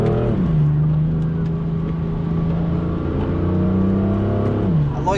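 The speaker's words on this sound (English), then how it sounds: "the exhaust note is definitely noticeable, if anything." A BMW F82 M4 exhaust booms close by as the car accelerates, its deep note climbing and settling through several gear changes with a raspy, rising drone.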